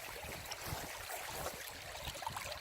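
Brown, peaty moorland stream on Dartmoor flowing steadily, a continuous close wash of babbling, trickling water with no voices.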